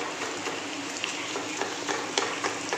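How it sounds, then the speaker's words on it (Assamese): Potatoes fry in a pan, giving a steady close sizzle scattered with small sharp crackles and pops throughout, with no voices. "এইয়া এতিয়া মই ভাজি আছোঁ আলুখিনি"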